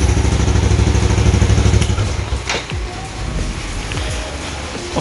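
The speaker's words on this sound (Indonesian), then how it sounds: "Nah, motor baru bisa nyala." A motorcycle engine runs steadily and loud up close after its regulator cable is reconnected, then drops to a quieter idle with some clatter.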